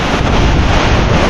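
Strong typhoon wind and rain batter the microphone in a loud, continuous, broadband roar with heavy buffeting and no gaps or voices.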